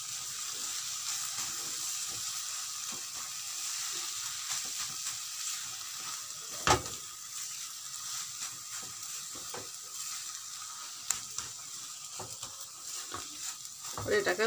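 Grated khoya kheer being stirred and cooked down in a pan for carrot halwa: a steady soft sizzle with scraping, stirring strokes and occasional louder clanks of the spoon against the pan.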